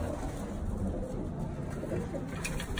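Birmingham Roller breeder pigeons in a loft give low, continuous cooing over a dense rumbling background, steady and close throughout.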